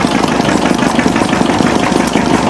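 An old Bessemer diesel engine runs steadily at an engine show, giving a loud, continuous mechanical drone with a dense, even rumble and no pauses.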